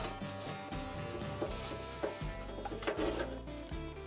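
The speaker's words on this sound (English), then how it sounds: "You want to get any grease from these sides, any soot, get them all scraped up" A metal scraper works grease and soot off the inner sides of a pellet grill in quick, gritty scraping strokes, close and fairly quiet, with no talking.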